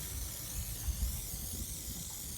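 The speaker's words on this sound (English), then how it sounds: "She's just really spraying it on quite liberally on top of the lettering itself." Boat lettering remover sprayed liberally from a spray bottle onto the lettering, a short breathy hiss with a couple of light bursts, close and moderately quiet.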